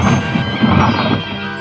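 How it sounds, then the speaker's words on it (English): A loud, close crash as a toy train engine smashes into a loaded cart of lime, a dense burst of impact noise that tails off quickly. "With a loud crash"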